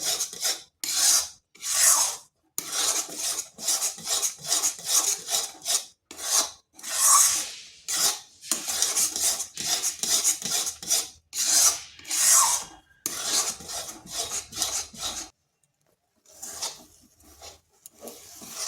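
Semolina milk cake dough being stirred nonstop in a pan with a spatula, giving close, loud, rhythmic rasping scrapes in quick repeated strokes that pause briefly before a few fainter scrapes at the end.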